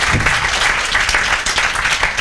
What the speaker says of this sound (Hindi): भैया के लिए जोरदार तालियां बजाओ